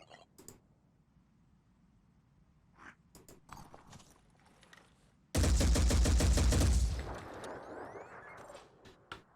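Gunfire in the Phoenix Point video game blasts at a cover object, a loud sustained burst of rapid shots lasting about a second and a half, preceded by scattered quiet clicks and interface sounds and followed by fading echoes.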